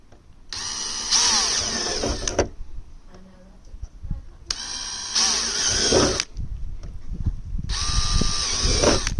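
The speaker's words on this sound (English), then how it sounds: "This new drill bit is making it really easy." A power drill with a new bit whines through a plastic RC car body shell in three long bursts, loud and close, with short pauses and light handling noise between them.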